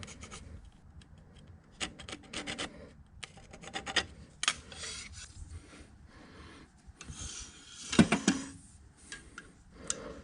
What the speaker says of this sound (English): I'll also use a new razor blade to trim the shim down to the edges of the gib.